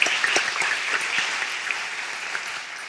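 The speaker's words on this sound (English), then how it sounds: "I'd like you to applaud them both for their very courteous presentations" Steady audience applause fills a panel Q&A hall on caste legislation: dense, even clapping from many hands, moderately loud and sustained throughout with no talking over it.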